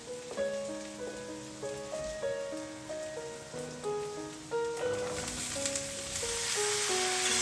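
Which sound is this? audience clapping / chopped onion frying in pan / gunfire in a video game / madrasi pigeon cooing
chopped onion frying in pan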